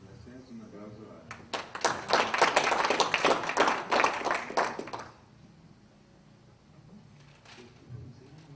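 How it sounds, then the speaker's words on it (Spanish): A small group of meeting participants claps for a few seconds in a brief, moderately loud burst that quickly fades to quiet room tone, with a voice speaking around it. "un aplauso a..."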